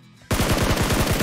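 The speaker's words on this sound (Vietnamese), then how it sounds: "bắn nhau rồi" Rapid automatic gunfire erupts in a PUBG Mobile shootout: a loud, close burst of evenly spaced shots after a brief quiet moment, continuing without pause.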